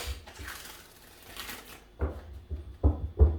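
Tarot cards are shuffled by hand, a soft papery riffling for a couple of seconds followed by several sharper, louder card-on-card slaps and taps, close up with no talking.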